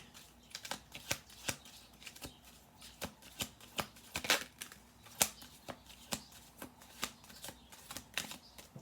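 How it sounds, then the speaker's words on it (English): Cards being shuffled in quick riffles, a steady series of sharp papery flutters and taps, close and fairly quiet. "I'll do 2 more shuffle throughs"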